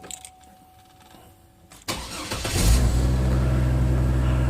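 A Chevrolet Trailblazer engine cranks briefly and catches, then settles into a loud, steady idle after a quiet stretch of faint background noise.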